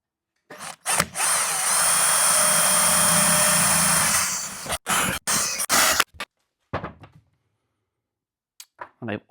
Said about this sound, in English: we'll get these 4 holes drilled